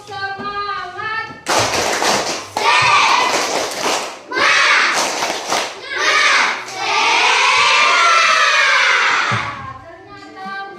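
Schoolchildren in a classroom perform a 'tepuk semangat' clapping chant, loud rhythmic bursts of claps mixed with shouted chanting that run in several bursts, with a voice speaking at the start and end.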